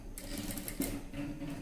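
A sewing machine runs in a short steady burst stitching folded frock cloth, close and moderately loud with a brief clack partway through.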